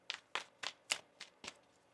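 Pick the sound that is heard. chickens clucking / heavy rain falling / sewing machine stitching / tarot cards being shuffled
tarot cards being shuffled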